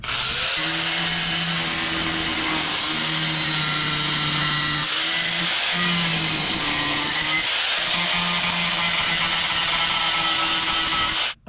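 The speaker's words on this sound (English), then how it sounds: "I'm gonna grind this down a little bit so we can get a tack in some spots here." A cutoff wheel grinding down rusted metal whines loudly and steadily close by, its pitch dipping briefly a few times under load before cutting off at the end.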